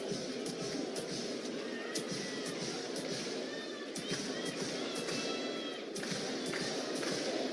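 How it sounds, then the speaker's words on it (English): A baseball stadium crowd stands and roars during a bases-loaded full-count at-bat between Cleveland and Minnesota, a steady dense crowd din with scattered claps and thumps filling the whole stretch. "Boy, the crowd who showed up, hats off to them. They're on their feet."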